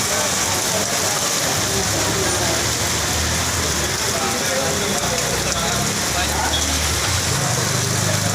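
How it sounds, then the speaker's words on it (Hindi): Steady heavy rain with small bits of hail falling on a street in Varanasi, a dense continuous hiss that stays even and loud throughout. "ऊपर से जो है वृष्टि में छोटे छोटे टुकड़े बर्फ़ के गिर रहे हैं"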